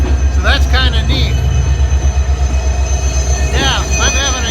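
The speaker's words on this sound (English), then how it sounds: "This is the northbound Alaska Railroad train." A northbound Alaska Railroad passenger train passing close by: a loud, rumbling roll with repeated high, wavering wheel squeals, and voices talking faintly underneath.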